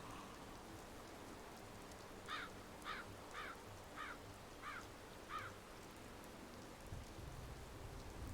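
Steady soft rain falls across the farmlands of The Secret World, a quiet, even hiss, with a short run of six evenly spaced bird-like calls partway through.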